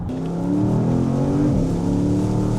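A Porsche Panamera Turbo (971) accelerates hard under full throttle, a loud sustained engine roar climbing steadily with a brief dip partway as it keeps pulling.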